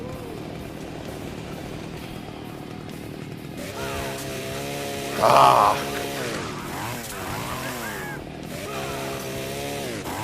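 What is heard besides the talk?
chainsaw cutting enemies in half in the video game Splatterhouse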